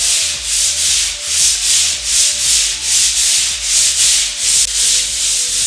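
Hand sanding a wooden boat mast with a small piece of sandpaper, close and loud, in steady rhythmic back-and-forth strokes about twice per second with no talk.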